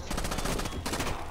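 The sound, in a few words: gunfire in Rainbow Six Vegas 2 video game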